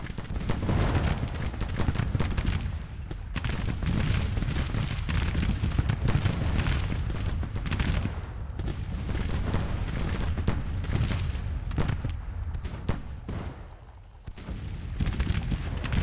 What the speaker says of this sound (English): There's just stand up fighting in a field, shooting.